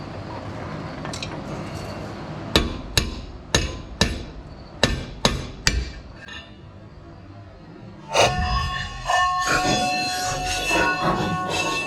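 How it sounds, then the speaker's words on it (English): Sharp metallic hammer blows strike a punch against the hat of a drum brake axle, about eight ringing hits in an irregular rhythm, close and loud, followed by heavier clanking and scraping of metal parts. "I'm gonna get a punch and try hitting the axle hat and see if that helps."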